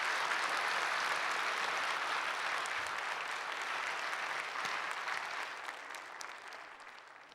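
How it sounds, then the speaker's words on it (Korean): Warm applause in a church welcoming a children's choir at a special thanksgiving night service, a broad continuous clapping from a large congregation that holds steady and then slowly fades toward the end. "뜨거운 박수로 환영해 주시기를 부탁드립니다."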